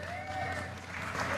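Audience at Obama's climate change speech applauding and cheering: a brief, steady wash of clapping and crowd noise, moderately loud, with a raised voice rising over it.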